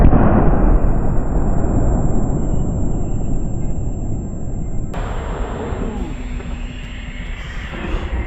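A 2S19 Msta-S self-propelled howitzer fires a shot, heard as a heavy, close, rumbling blast that decays under a steady roar, with a second sharp crack partway through.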